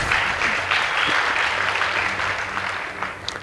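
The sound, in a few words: audience applause for debate team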